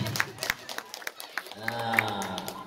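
Scattered clapping from a gathering of women at an Islamic study group's umrah travel presentation, a few sharp separate claps with voices talking over them.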